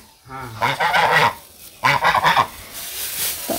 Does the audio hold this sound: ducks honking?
yes